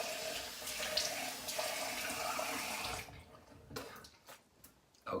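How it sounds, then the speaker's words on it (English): Cold water runs steadily from a tap in a barbershop setting for about three seconds, then stops, leaving a few scattered drips and small splashes. "Oh, cold water."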